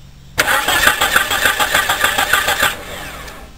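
A car's starter cranks the engine in a loud, rhythmic churning that lasts about two seconds without the engine catching, with the car having a no-start fault.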